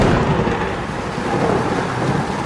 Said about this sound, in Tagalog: Panay pa ang kidlat.